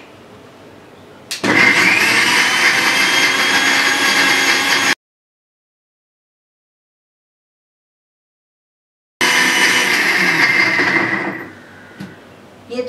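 A mixer grinder grinding coconut pieces roars loudly in two runs, about three seconds each with a pause between, its whine steady and then winding down at the end.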